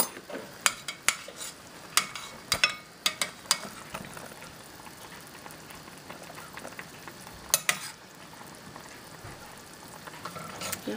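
Utensils scrape and clink against a pot of boiling chicken and broth with parsley in irregular bursts over a soft, steady sizzle of food cooking.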